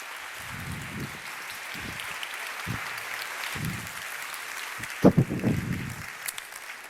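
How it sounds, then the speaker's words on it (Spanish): Audience applauding a researcher as he is welcomed on stage for a science talk, a sustained wash of clapping through which scattered voices and a few louder claps stand out. "Reciban con un aplauso al investigador de la UMIB, curtido en 1000 monólogos, Germán Orizaola."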